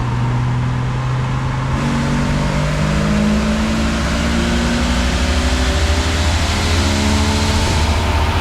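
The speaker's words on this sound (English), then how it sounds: "Go ahead, put it in gear, get it rolling. Second gear shift, coming up" A stock Jeep Wrangler TJ with the 4.0 engine accelerating on a power pull, a loud, steady engine roar that drops in pitch at the shift into second gear and then climbs again.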